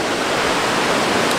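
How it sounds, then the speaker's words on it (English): Ocean waves surging right up to a beachfront hotel, heard as a loud, steady, hissing roar of surf with no distinct breaks and no voices. "The waves are literally coming all the way up to the hotel."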